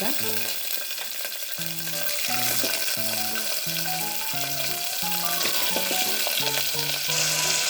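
Mustard seeds crackle while chana dal and urad dal fry in hot oil, a continuous close sizzle with light popping, heard under steady background music.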